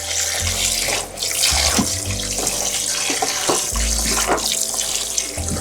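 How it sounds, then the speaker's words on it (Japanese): Tap water runs steadily over oysters being rinsed under the faucet, a continuous close splashing wash with small shifts in flow and no talk. "流水で水洗いをします。"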